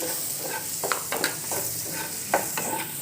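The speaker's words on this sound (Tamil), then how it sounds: "இந்த மாதிரி நீங்கள் நல்லா வதக்கிக்கோங்க" Chicken masala mixture for chilli chapathi sautéing in a pan, a continuous sizzle broken by repeated sharp spatula scrapes and taps.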